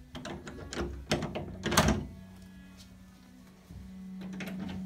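An original 1923 gumwood door with a glass doorknob opens indoors: a run of knocks and latch clicks, then a rising creak and a low sustained hum as it swings, with no voices.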